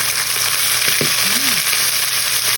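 Onions and garlic frying in hot oil give a loud, steady sizzle that lasts throughout, with a few faint knocks and a brief rising tone in the middle.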